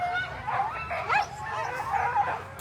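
A pack of sled dogs at the start line of the Fur Rondy sprint race in downtown Anchorage keeps up a steady, eager chorus of barks, yips and whines, close and dense.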